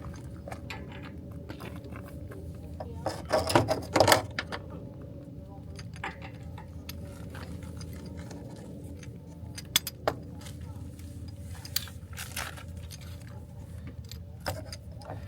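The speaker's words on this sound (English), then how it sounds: "we're going to go ahead and connect up the hose to it" A propane hose being coupled to an RV fitting, giving a short burst of metallic clinks and rattles near the start over a steady outdoor hum, followed by scattered faint taps and clicks.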